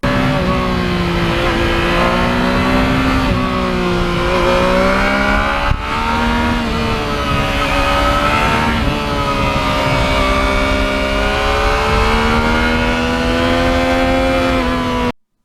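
A 2020 Yamaha MT-09 motorcycle engine drones loudly and continuously while riding, its pitch rising and falling with throttle changes, close and alone with no talk.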